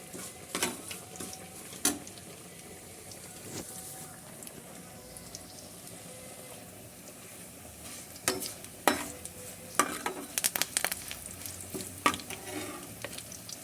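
Curry leaves sizzle in hot oil in a pan while being stirred for a drumstick gojju, a soft steady frying hiss broken by sharp scrapes and clinks of the spoon, close and fairly quiet, no talk.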